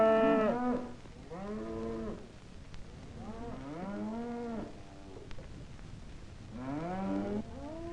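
Cattle moo at a stockyard in Wichita, Kansas, several long drawn-out calls at moderate distance, separated by short pauses, over faint background noise.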